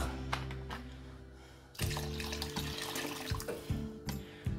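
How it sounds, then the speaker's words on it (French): Water pours into a pot of rabbit stew to cover the meat: a steady, close gush that starts abruptly after a short quiet stretch and keeps splashing to the end. "Je vais encore couvrir d'eau à hauteur."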